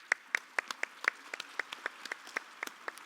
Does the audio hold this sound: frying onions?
no